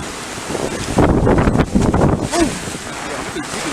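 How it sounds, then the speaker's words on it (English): A strong wind gust during Hurricane Zeta roars past the microphone, swelling into loud blustery bursts in the middle before easing back to a steady rush. "Ooh, that was a good gust."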